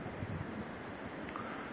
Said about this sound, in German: was hier auch diese starken Windböen aktuell hervorruft